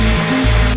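Fine-grit sanding of freshly cut wooden shelf board edges while rounding them off: a brief, steady, close abrasive hiss with a low hum beneath, cutting off abruptly at the end.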